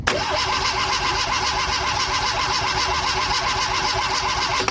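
A retro Italian camper's engine cranks with a steady, rhythmic starter churn, loud and close, continuing without pause through the clip.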